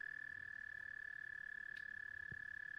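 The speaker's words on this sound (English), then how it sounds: "That cricket, bruh." A cricket chirping outdoors near a river, a faint, steady high-pitched trill that continues without pause, with a couple of soft low knocks in the background.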